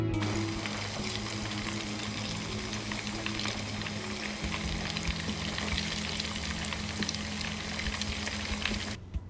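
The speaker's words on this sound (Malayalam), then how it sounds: "മീൻ ഫ്രൈ ചെയ്ത് കഴിഞ്ഞു" Fish pieces frying in hot oil in a pan, a dense continuous sizzle and crackle with a low steady hum beneath, constant and close without pause until a brief drop at the very end; no talking.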